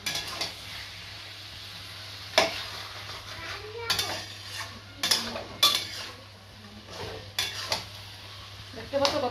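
Chicken curry masala fries quietly in a pan while a spoon stirs and clanks against the metal in irregular, sharp knocks over a soft sizzle, close by.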